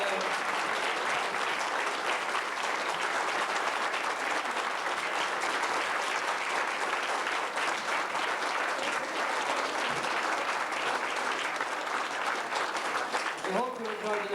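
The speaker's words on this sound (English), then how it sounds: "and I think Una deserves a very special round of applause tonight" Sustained audience applause at a televised tribute show, a dense, steady wall of clapping from a large crowd filling the whole stretch, close and loud, with a brief voice near the end.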